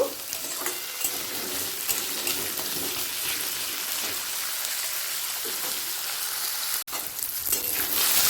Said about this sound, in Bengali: আলুটা হালকা লাল করে ভাজা হয়ে গেছে